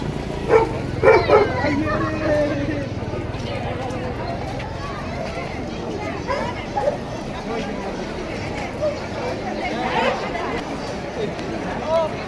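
German shepherd bomb-detection police dogs bark in short repeated bursts amid a busy crowd, with people talking over and between the barks.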